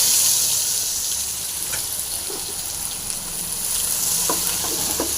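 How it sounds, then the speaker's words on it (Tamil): Chopped onions frying in hot oil with popped mustard seeds make a loud, steady close-up sizzle, with a few faint stirring taps underneath. "வெங்காயம் நல்லா ஃப்ரை பண்ணிக்கலாங்க"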